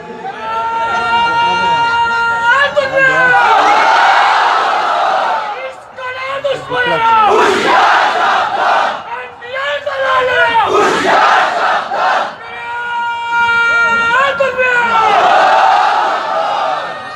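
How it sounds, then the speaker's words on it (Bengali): A large crowd at an outdoor religious gathering shouting the takbir slogan in unison, loud call-and-response chants rising and falling in repeated waves, with a single leading voice between them. "একজন তাকবীর দিয়ে শোনায় দেন তো দেখি"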